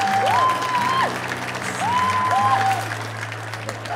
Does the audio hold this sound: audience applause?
yes